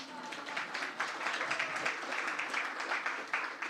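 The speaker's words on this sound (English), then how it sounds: "Round of applause, come on." A conference audience gives a round of applause, steady moderate clapping from many hands in a hall, continuing evenly throughout.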